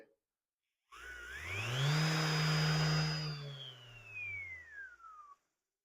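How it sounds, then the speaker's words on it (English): A MAXXT 6-inch random orbit sander spins up, whirs at a fairly quiet steady pitch for a few seconds, then winds down as it brakes to a stop. "probably one of the quieter sanders I've ever had"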